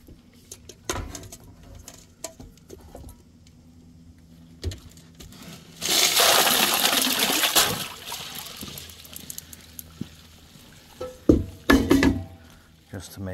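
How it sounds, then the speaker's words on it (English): Ice is dumped into cold water in a foldable portable ice plunge bath tub, a loud splashing, clattering burst in the middle, followed by quieter sloshing and a few knocks. "So we're gonna add the ice now."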